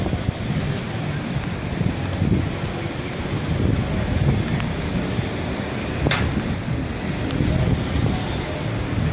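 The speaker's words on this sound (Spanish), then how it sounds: "se ha intensificado la lluvia acá en Siloé" Heavy rain pours steadily at the Siloé aerial cable, a dense continuous roar of drops with gusty wind rumble against the microphone and a few sharp crackles.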